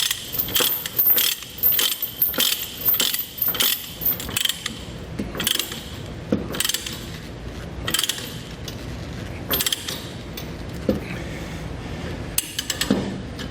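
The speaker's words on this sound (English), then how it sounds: "Just gonna get this to reach out as far as I can with these chains, and then I'll start tightening it down." Transport chains with grab hooks are tightened with a lever load binder, producing a close series of metallic ratcheting clicks and clanks that come in irregular bursts, with chain links rattling between strokes and no talking.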